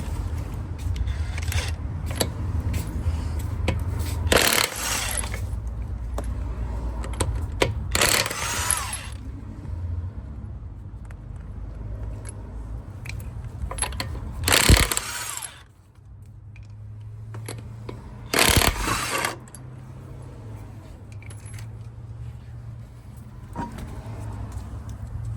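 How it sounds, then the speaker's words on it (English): A 13/16 socket wrench works car wheel lug nuts loose, giving several sharp metallic ratcheting bursts spaced apart over a low, quiet background. "I'm going to use a 13/16 socket to take off the wheel"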